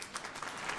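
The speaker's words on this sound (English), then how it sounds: "That's their standing ovation for Sheldon Brown." A crowd gives a standing ovation, with brief, fairly soft steady clapping from many hands.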